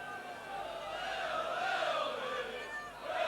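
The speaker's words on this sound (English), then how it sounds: "Crowd really getting behind the liners now." Rugby league crowd at a Leeds versus Bradford Northern Regal Trophy match, a distant, continuous swell of cheering and roaring, steady and broad, rising slightly and easing near the end.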